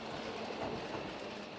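A train passes at Tsuzumigataki, Japan, a steady rumbling wash of rolling wheels and rail noise heard at moderate distance, continuous throughout with no voices.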